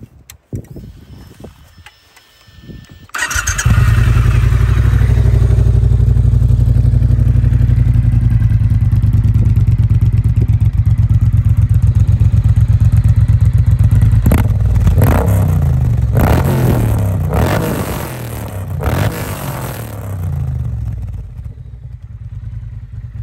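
A Triumph T120 motorcycle with aftermarket exhaust pipes cranks and fires up, settling into a loud, deep, burbling idle with a few sharp throttle blips, then fading toward the end.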